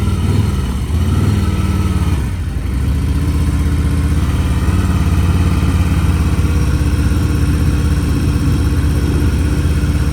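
A motorcycle engine runs steadily and loudly close by, a continuous deep throbbing drone with a brief dip near the start, and no voices over it.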